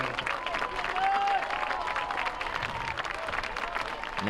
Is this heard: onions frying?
no